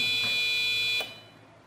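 A clean room and laboratory exhaust monitor alarm emits a loud, steady high-pitched electronic tone that cuts off abruptly after about a second, leaving quiet room noise.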